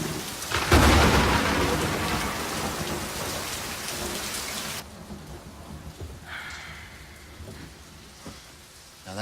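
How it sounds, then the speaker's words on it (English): Steady heavy rain pours down with a loud crack and rumble of thunder near the start, then the downpour continues more softly as the storm settles. "Get out of the rain, kid."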